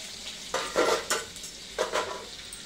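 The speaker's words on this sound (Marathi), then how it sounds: "आता काय हे लसूण टाकते ना." Garlic frying in a pan for a potato fenugreek sabzi, with a soft background sizzle and several bursts of scraping as a spoon stirs, alone and close.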